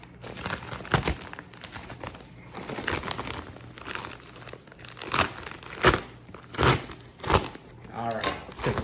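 Knife slicing open a mystery box package, with crinkling and tearing of packaging in bursts of rustle and sharp cuts, close and fairly loud over a low background hum.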